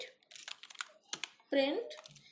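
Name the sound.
typing on a computer keyboard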